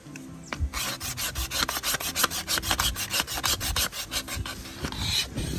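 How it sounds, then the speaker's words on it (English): Bamboo being scraped into fine shavings for kindling to start a primitive fire on a Brazilian island, a close, continuous rasping and scraping in quick repeated strokes, loud and alone. "we're gonna make some bamboo shavings so that we can ignite the fire right in here"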